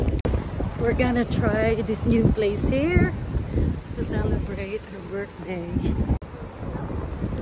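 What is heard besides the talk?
wind blowing into microphone outdoors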